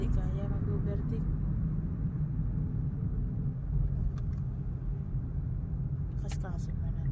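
Truck rumbling along a provincial road near Gapan City past rice fields, a steady low engine and road roar with a car interior feel, while people talk quietly.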